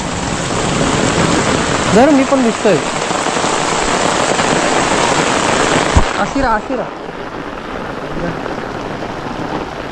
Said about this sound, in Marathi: निष्पाट पाऊस आहे